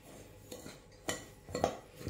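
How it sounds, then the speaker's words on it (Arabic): A utensil scrapes and taps against a bowl in a few quiet, separate strokes while a breading mixture with a pinch of cinnamon is stirred, close by with no talking. "هلا مزبوط رح اخلط البانير"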